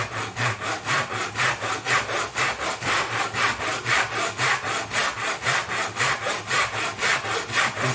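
A budget dovetail back saw cuts through a 6-inch piece of timber in short, quick strokes, about three per second. The rasping is steady, rhythmic and close, with no voices.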